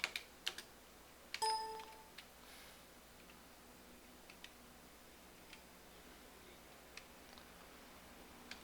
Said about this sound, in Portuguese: E vamos para a digitação dos alunos.